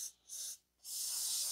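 Penetrating oil sprays onto the threads of a CV axle in two short, close hissing bursts separated by a brief pause, with no talk.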